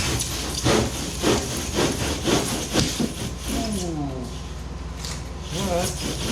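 Hand saw cutting through foam for a homemade 11-foot foam and fabric kayak, steady rhythmic rasping strokes about twice a second, close and fairly loud, with someone speaking over the later strokes.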